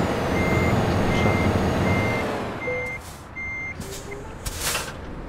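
Reversing beeps repeat steadily from a heavy truck backing up to hitch a trailer in Euro Truck Simulator 2, the engine rumbling low beneath, then dropping off, with a short air-brake hiss near the end.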